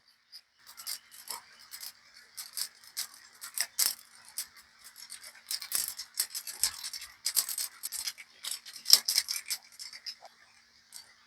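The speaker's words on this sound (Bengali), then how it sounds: "সরিষাগুলো ফুটে আসছে" Mustard seeds popping in a dry wok make a steady stream of small, crisp crackles and ticks at close range, quiet but continuous, with denser bursts toward the middle and end.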